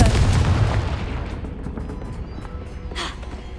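A Confringo fire spell explodes in Hogwarts Legacy, a sharp booming blast up front that decays into a rumbling tail, with a smaller crackling burst near the end.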